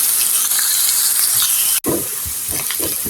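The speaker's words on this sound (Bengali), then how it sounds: "আমি পেঁয়াজটি সুন্দর করে ব্রাউন করে ভেজে নেব।" Onion frying in oil in a pan gives a steady close hiss and sizzle, briefly cut off once, then resuming with scattered stirring clatter.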